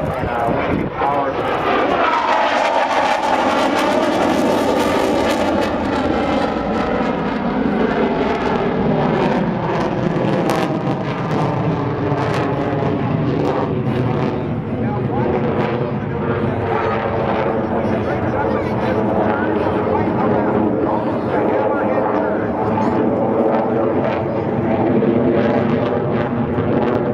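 A jet aircraft performing at an air show roars steadily overhead for the whole stretch. A commentator talks over the loud engine noise throughout.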